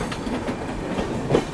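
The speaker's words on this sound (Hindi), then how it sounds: "बैक टू बैक ट्रेन्स भाई" A train rolls past at Dhanbad Junction railway station, a steady low rumble of wagons with faint clattering, heard close from the platform side with no talking.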